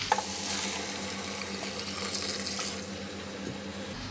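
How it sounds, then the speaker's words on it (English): Boiling hot vegetable stock pours steadily into a soup pot of sweet potato soup, a continuous rushing, splashing stream lasting several seconds, fairly close and alone with no talking. "Now I'm going to be using some vegetable stock."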